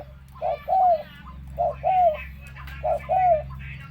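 A dove coos close by in three repeated phrases, each a short note followed by a longer rolling coo, over a low steady background hum.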